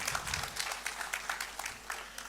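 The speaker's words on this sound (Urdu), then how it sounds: "تو خصوصی تالیاں ان کی پوری فیملی کے لیے" A crowd at a ceremony claps for a family, irregular handclaps rising and falling over a couple of seconds, moderately loud and fairly close, with no talk over it.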